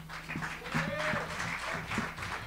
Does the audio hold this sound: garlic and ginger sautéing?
no